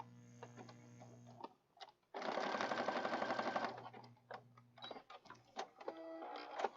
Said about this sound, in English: Let's continue stitching.